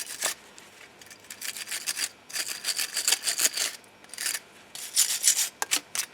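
Brake caliper mating surfaces on a Peugeot 307 are cleaned by hand, giving rapid, scratchy rasping strokes in short bursts with brief pauses, close and fairly quiet.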